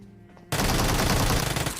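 A sudden loud burst of automatic gunfire in the mobile shooter BGMI (PUBG) breaks a quiet moment and carries on as a rapid, close, sustained volley.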